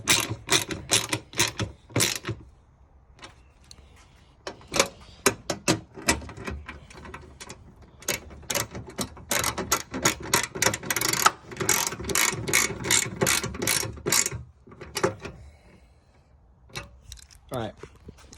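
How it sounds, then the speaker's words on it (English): A hand ratchet clicks in quick bursts, tightening bolts on a Perrin fender shroud on a Subaru STI, with short pauses between runs and a little speech mixed in. "let me get these tightened down"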